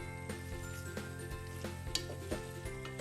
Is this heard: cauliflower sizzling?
yes